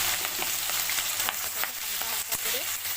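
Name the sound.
crab frying in oil in a wok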